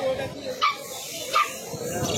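A small puppy at a street pet market gives two short yips amid ambient chatter and market noise, the brief cries clear above a low background of voices.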